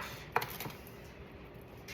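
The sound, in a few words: chopping cauliflower and broccoli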